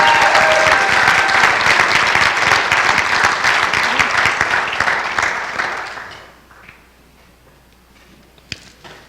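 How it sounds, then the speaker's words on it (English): An audience at a college signing-day ceremony applauds business and design graduates, dense loud clapping for about six seconds before fading to near silence, with a single sharp click near the end. "Ladies and gentlemen, please join me in applauding our next generation of business and design professionals."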